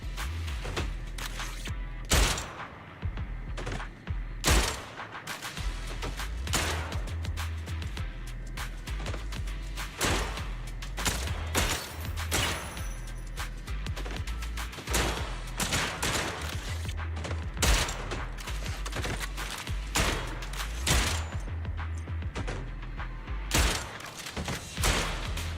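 Rapid gunfire from aimed, piercing shots in the video game Zenless Zone Zero crackles throughout, a dense run of loud sharp bursts over a steady low game rumble.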